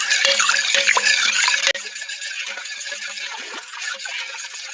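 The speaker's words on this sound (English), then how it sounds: "Stir this really well." A spoon stirs yogurt into milk in an Instant Pot insert with loud, close scraping and clinking, followed by quieter liquid swirling and occasional taps.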